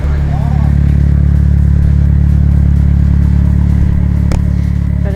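A Nissan S14 Silvia, fitted with its exhaust, idles steadily up close with a deep continuous engine drone and some light clatter, warming up after returning to life.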